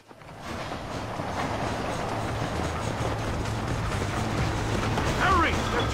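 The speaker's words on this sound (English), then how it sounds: "¡Hurry! ¡The train is getting away!" A steam train from the Red Dead Redemption video game rumbles along steadily with continuous rolling and rail noise, loud and close, with a brief higher squeal near the end.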